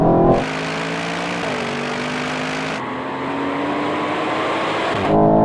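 An Aston Martin V12 at a drag race pulls hard under sustained acceleration, its loud engine roar rising steadily, then an automatic upshift drops the pitch before it climbs again as the car keeps pulling.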